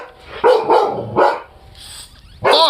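A dog barks loudly and close by in a series of four or five sharp, irregular barks, with brief yips and whines between them.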